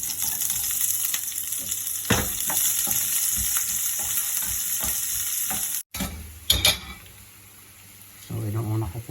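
Eggplant and okra sizzling and frying in a pan, a steady loud hiss with occasional stirring clatter, a short break, then more sizzling and a spatula scrape near the end.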